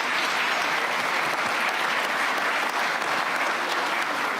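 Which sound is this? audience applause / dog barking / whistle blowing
audience applause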